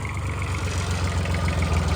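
A homemade 26 hp tractor engine runs at a steady idle nearby, a continuous low rhythmic chugging throb with no voices.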